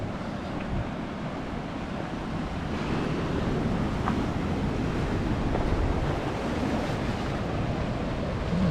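Ocean surf rolls steadily against a rocky shore with rock pools near the Woolshed Cave on South Australia's Eyre Peninsula, a continuous loud wash of waves with wind buffeting the microphone.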